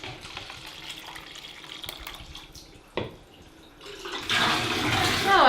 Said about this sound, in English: Just rinse it in the sink with some hot water and soap